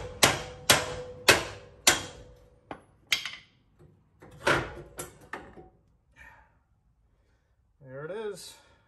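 A trailer axle with leaf springs is lowered and dropped, giving a rapid series of loud, close metallic bangs and clanks that thin out into scattered knocks, followed by a short voice near the end.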